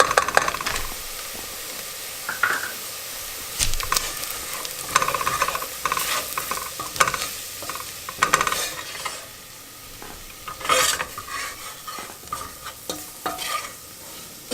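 Flour stirred into melted butter in a pot for alfredo soup, sizzling as a spoon scrapes and stirs in irregular bursts, close up, with no talking.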